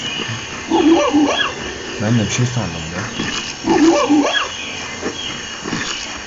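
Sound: monkey sound in Disney Pixar Up video game

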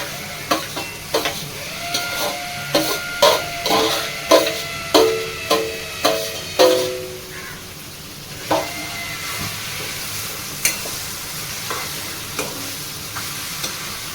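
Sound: brinjal and coriander frying with browned onions

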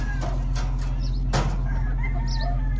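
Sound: Roundhead and Golden Monkey gamefowl hens

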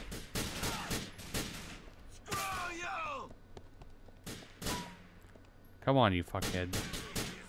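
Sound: gunfire in Grand Theft Auto 4 video game

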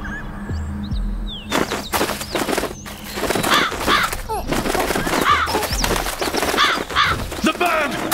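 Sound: bird cawing in Rise of the Kasai video game

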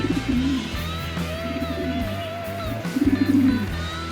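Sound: pigeons cooing

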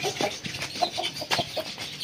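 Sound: rooster clucking

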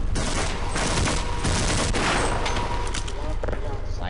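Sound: gunfire in the video game Half-Life

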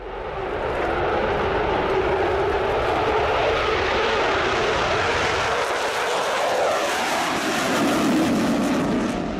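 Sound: Eurofighter Typhoon jet fighter

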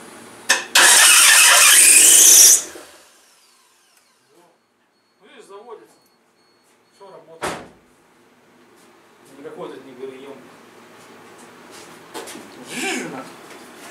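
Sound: Mitsubishi RVR 2.0 petrol engine cranking

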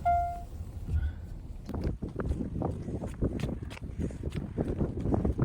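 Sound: strong wind

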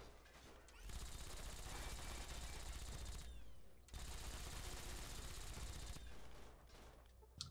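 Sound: turret gunfire in the video game Fallout 3

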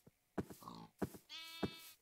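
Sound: pig grunting in a video game

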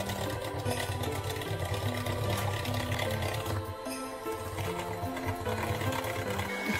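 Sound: electric mixer beating cake batter with eggs

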